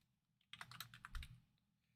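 A short burst of computer keyboard typing, about a second of quick, close keystrokes with a heavier thump near the end, otherwise quiet.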